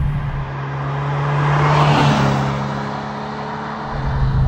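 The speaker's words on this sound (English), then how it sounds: "the engine revs freer" A Ferrari 328 engine revs while driving through canyon roads, a loud continuous roar that swells and then eases over a few seconds with no talk.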